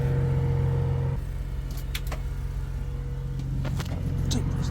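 An old diesel truck engine cranking without firing up: a close, steady low mechanical drone that drops in tone after about a second and keeps grinding on, with faint clicks and knocks over it.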